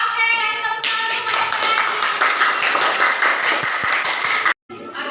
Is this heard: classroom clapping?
yes